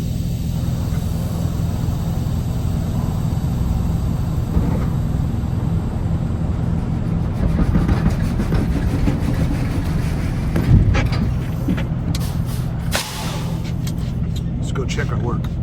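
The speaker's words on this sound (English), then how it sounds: "I'm gonna release the tractor parking brake, and we're gonna go forward." A semi truck tractor rumbles with a steady low diesel drone as its parking brake is released and it pulls forward to slide the trailer tandems, with a sharp burst of air and clatter late in the clip.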